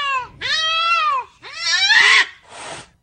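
Angry cat making loud yowling, hissing noises in three drawn-out bursts separated by short pauses, close and harsh.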